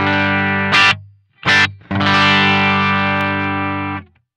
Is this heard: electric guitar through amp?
yes